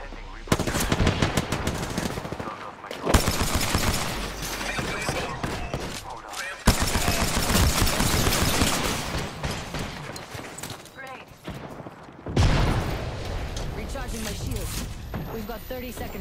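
Rapid automatic gunfire and single shots crackle through a battle royale video game firefight, with bursts of shooting that stop and start again over about sixteen seconds, mixed with game voice callouts and other speech.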